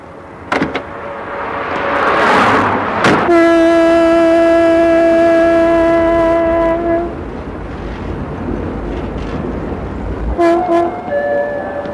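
A train draws near and passes loudly, its sustained horn blaring for several seconds over a rumbling roar of wheels, then fading into rail noise before a second short horn blast near the end; no speech.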